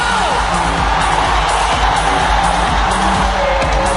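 A large futsal crowd at Premier Futsal roars and whoops steadily after a Ronaldinho goal, a loud, continuous wash of cheering with no break.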